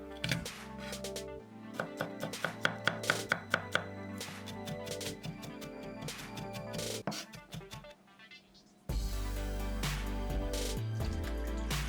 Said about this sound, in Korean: 통마늘 5개는 다져줍니다.